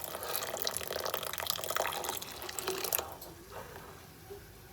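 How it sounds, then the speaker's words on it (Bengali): Whey from chhana curdled with lemon juice pours and splashes through a strainer, a steady wet rush that thins to faint trickling near the end. "বাবা এবার ছানার জল ছাকছে, ছানাটাকে আলাদা করে।"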